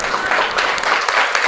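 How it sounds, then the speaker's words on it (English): A live podcast audience applauds in a room, a brief burst of dense, loud clapping that holds steady throughout. "Can everybody just give a round of applause to Anji?"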